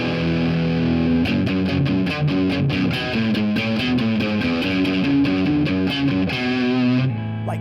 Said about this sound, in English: and now let's start to increase the distortion.